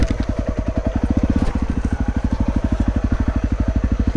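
A trail motorcycle rides a rutted trail, its engine thumping in a rapid, even pulse, close and loud, with a brief rough clatter partway through and no voices.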